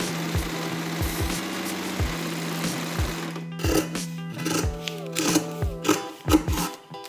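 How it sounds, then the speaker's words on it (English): Sewing machine stitching brown fabric from a thrifted top, a loud close motor hum that runs steadily and then breaks into stop-start bursts with clattering needle pulses. "let me go ahead and sew this onto this and then cut that out"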